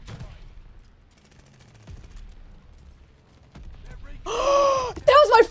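A launcher fires in the shooter game Call of Duty: Vanguard, a loud, sharp blast followed by a second burst near the end. It comes after quieter in-game ambience and rumble.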